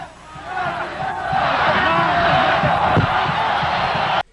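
A large football stadium crowd roars and cheers continuously after a penalty shootout win, a loud, distant-sounding wash of voices that swells and holds before cutting off abruptly.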